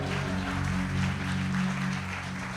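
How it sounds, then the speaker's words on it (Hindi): A church congregation applauds in one sustained burst of clapping, steady and fairly loud for about three seconds, with held keyboard or organ tones underneath. "विश्वास करने वाला एक बार तालियों के साथ धन्यवाद करिए।"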